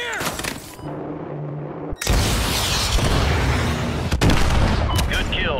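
Heavy artillery blasts and explosions thunder through a Call of Duty Modern Warfare 2 battle, dense rumbling barrage with sharp impacts near 2 and 4 seconds, loud and continuous, with radio-style voices faintly mixed in.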